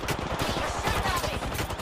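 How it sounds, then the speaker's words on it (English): Rapid automatic gunfire in the battle royale game Apex Legends, a dense, steady stream of shots that stays loud throughout the short stretch. "You're shooting at me."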